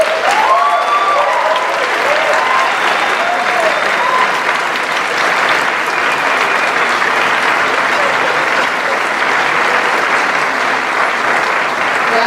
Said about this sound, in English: I ask you to demonstrate your appreciation by applauding the faculty.